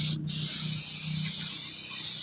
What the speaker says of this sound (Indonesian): kita semprot cat warna merah candinya. Ini kita semproti tipis-tipis saja seperti ini terlebih dahulu.